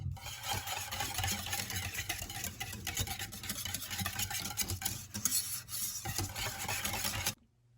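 Cherry pie filling being mixed in a bowl, a close, continuous wet scraping and rubbing of a utensil that stops abruptly near the end.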